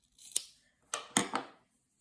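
Scissors snip through yarn trimming a crochet tassel fringe: one crisp cut, a pause, then a quick run of three sharp snips, close and clear in a quiet room.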